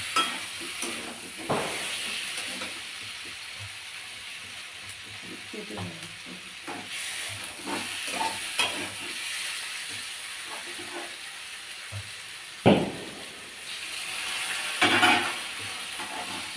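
Curry bubbling in a pot as it cooks: a continuous hissing sizzle with scattered pops and small bursts, fairly close and steady throughout, with no one talking.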